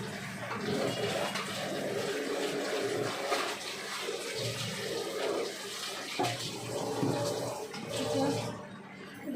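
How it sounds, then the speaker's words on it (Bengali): Gobindobhog rice is washed by hand in water, a close, continuous sloshing and splashing that swells and eases throughout. "আমি চালটা নিয়ে ধুয়ে নেব।"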